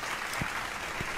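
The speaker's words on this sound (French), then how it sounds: "Et on applaudit." Applause during a French gaming stream of The Forest, a brief burst of steady, dense clapping heard close and alone.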